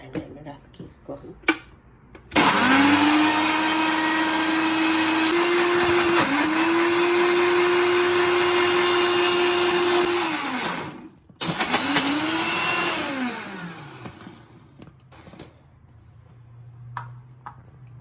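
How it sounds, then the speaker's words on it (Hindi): A close, loud blender whirs through strawberries and blackberries for a smoothie bowl in a long steady run, then stops briefly and starts again. The motor pitch sags and recovers as the fruit churns, and a few clicks come before it starts. "ब्लेंडर में डाल के इसको हम"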